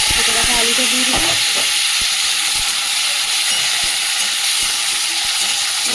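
Potato tossed into hot oil with mustard seeds, dried chili and curry leaves, frying with a loud, close, continuous sizzle and a few clinks and scrapes from stirring early on.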